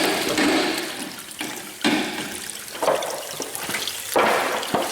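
Whey drains steadily from cheese curds packed in moulds at a cheese dairy, a close, continuous pouring and trickling of liquid with some louder surges.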